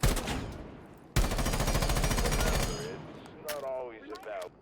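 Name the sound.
gunfire from a gun in the video game Rainbow Six Siege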